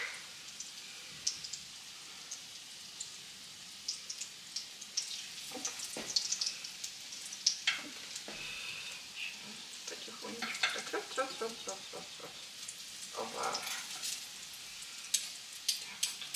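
Small pancakes (oladushki) fry in a hot pan with soft, scattered sizzling and crackling, plus occasional clicks and scrapes, all fairly quiet and close by.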